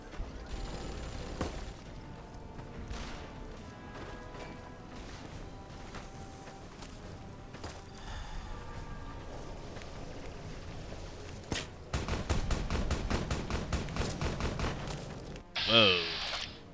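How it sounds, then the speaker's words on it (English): Gunfire in Fallout New Vegas breaks out as a rapid string of sharp, repeated shots that drowns out a quieter stretch of footsteps and ambient game sound, with someone talking at times. "Who the fuck is shooting me?"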